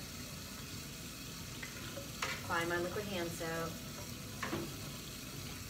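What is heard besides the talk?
running water from a sink tap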